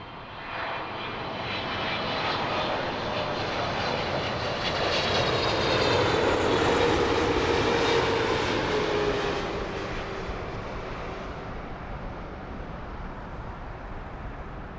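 An American airliner's jet engines roar at Heathrow Airport, a loud, broad rumble that swells to a peak midway and then slowly fades as the aircraft passes, with no voices.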